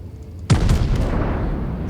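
Big guns of the battleship Bayern fire in a World of Warships naval battle, one sudden deep boom followed by a rumbling rolling tail and a faint crackle, loud and close with no talking.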